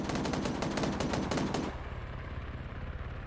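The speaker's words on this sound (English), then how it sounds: "Now you have the frickin' M2 doing another drive-by." An M2 machine gun rattles off a fast, loud burst during a drive-by in Arma 3, then cuts out and leaves a fading echo and low rumble.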